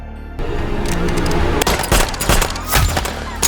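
Rapid bursts of gunfire from a film action scene, loud and dense, with repeated sharp shots and booms layered over a music bed, starting after a brief quiet moment.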